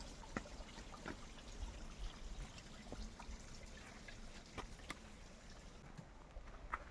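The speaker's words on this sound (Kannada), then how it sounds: "ಇಲ್ಲೆಲ್ಲ ಹರಿತೈತೆ ನೋಡಿ ಬಂಡೆ ಮೇಲಿಂದ ನೀರು" Water flowing and trickling over rocks near a hidden waterfall in Jogimatti makes a steady, broad rushing wash, with faint scattered clicks and splashes throughout.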